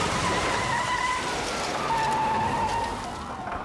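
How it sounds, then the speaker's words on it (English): A suspect's car skids during a police chase, drawn-out tyre squeals wavering over engine roar and road noise before a dull thud of hitting concrete pylons as the sound eases away. "Seconds from hitting the truck, the suspect collides with concrete pylons."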